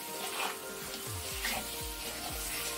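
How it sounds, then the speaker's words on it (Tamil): Cooked mutton is stirred into a drumstick curry in a pan, a soft continuous sizzle with repeated scraping strokes of a spoon moving through the thick gravy. "இப்போ இதிலே வந்து நம்ம வேக வச்ச மட்டன் கறியை சேர்த்துக்கலாம். டைரக்டா இதை நல்லா மிக்ஸ் பண்ணிடலாம்."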